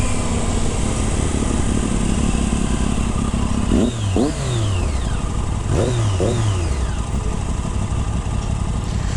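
A 600cc sport motorcycle with an Akrapovic exhaust revs hard over a steady loud engine drone, with two sharp rising-and-falling rev bursts around the middle, close and alone without talk.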